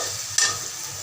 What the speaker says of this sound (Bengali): দিয়ে দিলাম দুটো পেঁয়াজ কুচি